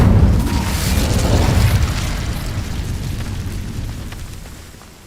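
A fire spell cast in Hogwarts Legacy on PS5 bursts into a loud, booming whoosh that rolls on and slowly fades over several seconds, with no voices over it.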